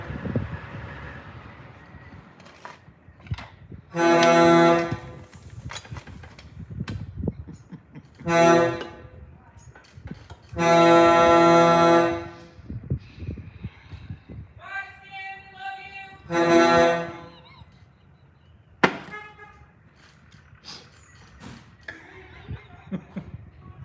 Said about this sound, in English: That's just the regular horns on the hood.